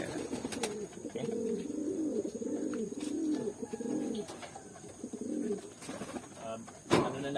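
Racing pigeons coo softly at close range in a continuous, wavering stream, with a few faint chirps and light clicks over a quiet background.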